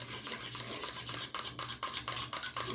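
A fork stirs food quickly around inside a cup, a rapid run of scraping, rubbing strokes in even rhythm, faint and close with a low hum underneath.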